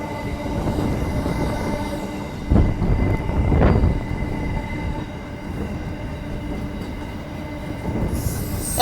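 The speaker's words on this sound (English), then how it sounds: "Freight train." A freight train rumbles past steadily near Woodbridge in Perth, with a louder swell of wheel noise midway and a faint metallic squeal, then fades to a lower drone.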